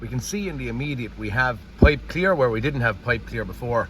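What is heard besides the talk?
No everyday noise stands out behind the speech.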